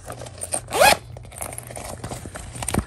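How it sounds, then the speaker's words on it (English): The zipper of a Longchamp bag is pulled in one quick, close, rasping stroke, followed by softer handling and rustling of the bag. "And the zipper is super smooth."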